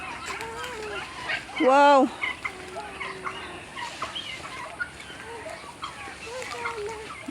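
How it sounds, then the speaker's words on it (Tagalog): A large flock of chickens and other fowl cluster nearby, with one loud gobbling, warbling call standing out among softer clucks, while people talk close by. "Grabe, thousands ang mga manok magtagbo sa mua."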